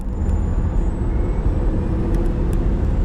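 A 1,020-horsepower car accelerates under a light press of the throttle, a steady deep rumble and whir heard from inside the cabin, loud and continuous without a clear rise in pitch.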